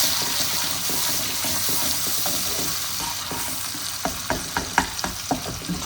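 Fish pan-fries with garlic and lemon in a steady close sizzle, and a run of sharp utensil taps against the pan comes near the end.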